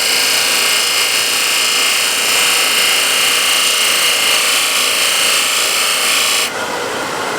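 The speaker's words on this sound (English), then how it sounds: "you can use skew bevel side here, just to lightly scrape here" Skew chisel, bevel side down, lightly scraping a turning wood blank, giving a steady, loud, close hiss and rasp that continues unbroken and changes tone just before the end.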